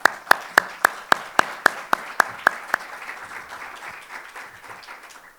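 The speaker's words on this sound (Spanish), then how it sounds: "Un aplauso, por favor." Audience applause at an industry conference. A few crisp, evenly spaced claps ring out first, then loose crowd clapping carries on and slowly thins out.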